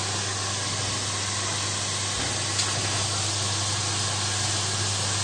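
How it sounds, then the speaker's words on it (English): Butternut squash sizzling in a pan over medium heat on a back burner, a constant close hiss with a low steady hum beneath, alone without talk. "just need to now pop our squash into the pan. And it's starting to sizzle already"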